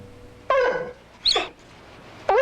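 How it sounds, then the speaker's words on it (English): A pet dog whimpers and cries in a home, giving three separate high, whining calls: a long wavering whine, a brief rising yelp, then a short whine cut off at the end, close and fairly loud with no talk. "She would whimper and cry any time she came near that room."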